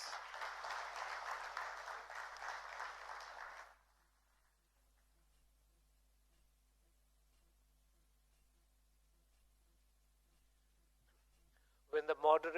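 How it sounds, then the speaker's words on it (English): An audience at a corporate awards ceremony claps in a burst of applause lasting about four seconds before cutting to near silence; a voice speaks briefly at the very end. "with a big round of applause"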